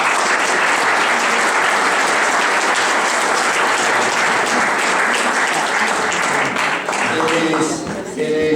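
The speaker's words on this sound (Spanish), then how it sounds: "Un aplauso al maestro Terry." Warm audience applause in a talk at Casa de España San Antonio welcoming a guitarist, sustained many-handed clapping that tapers at the end as a voice begins speaking.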